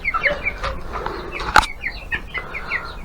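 Broiler chickens moved into a mesh pen with ducklings, clucking and chirping close by in short repeated calls, with a brief flutter of wings in the middle.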